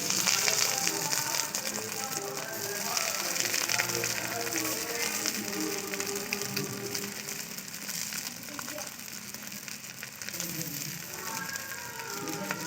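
Pieces of semolina cake sizzle and crackle in hot oil with mustard seeds, a steady dense frying hiss throughout, fairly soft and continuous with no one speaking.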